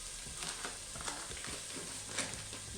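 Onions frying in a pan on a home stove, a steady, dense sizzle and crackle running throughout, fairly quiet with occasional soft stirring taps.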